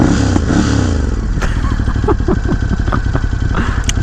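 A 2018 Ducati Scrambler 1100 Special rumbles steadily close by on a ride, its low engine drone continuous under wind noise, with faint speech-like sounds mixed in.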